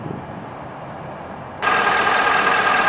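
A Ford F250 pickup with a 6.7 liter V8 idles in a steady, even drone, then the engine noise jumps noticeably louder and brighter partway through. No voices are heard.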